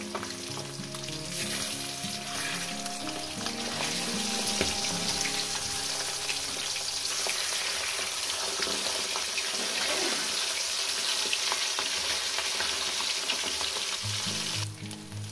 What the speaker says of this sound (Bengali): মাছগুলো আমার ভাজা হয়ে গেছে, আমি মাছগুলো উঠিয়ে নিচ্ছি